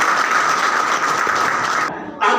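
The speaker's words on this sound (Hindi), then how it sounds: "इसलिए जोरदार ताली बजा के" A crowd at a political campaign event in Narela, Delhi, claps loudly in a dense, continuous wash of applause that dips briefly near the end and then swells again.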